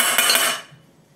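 Roasted coconut tipped out of a kadhai onto a wide plate, a short close scrape and rattle of metal that fades away after about half a second.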